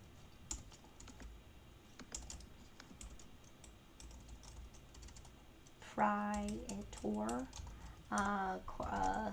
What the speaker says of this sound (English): Today I'm typing very, very slow